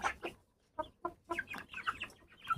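Chickens and guinea fowl clucking close by in a rapid series of short, bright calls with brief gaps between them, with no voices.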